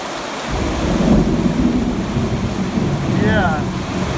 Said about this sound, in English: Boy, this storm really came with a lot of lightning.